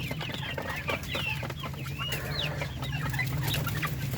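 Native Darag chickens cluck and chatter continuously while pecking at saresa fruit, several birds close by over a steady background hum, with no talking.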